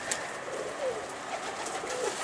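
Pigeons cooing softly over a steady background hum, several low calls spread across the clip.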